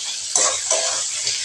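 Chicken and vegetables fry for chowmein in a pan, a close, steady sizzle with three sharper surges as the food is stirred or tossed.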